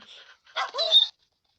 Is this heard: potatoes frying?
no